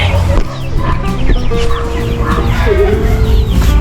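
Chickens clucking loudly nearby, several birds calling over each other, with a rooster-like call cutting in and a steady low background rumble.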